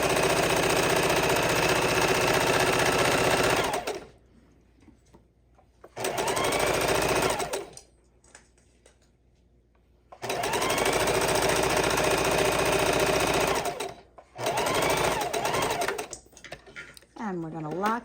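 A sewing machine stitches a quarter-inch seam across a quilt strip in several fast, whirring bursts of a few seconds each, separated by quiet pauses.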